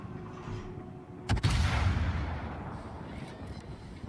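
Torpedo hits on a Baltimore cruiser in the naval video game World of Warships land as a sudden sharp double blast, followed by a rumbling explosion that slowly fades amid faint background battle noise.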